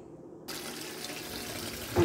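Tap water gushes into a sink to wash cherries for juice, starting abruptly after a brief quiet moment and running as a steady close rush.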